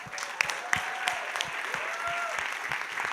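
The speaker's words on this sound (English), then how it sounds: "I would like you all to welcome these lovely people with a thunderous round of applause" Audience applause greets new Rotary club members at an installation ceremony, a steady moderate patter of many hands with a few sharper claps standing out, heard from a little distance.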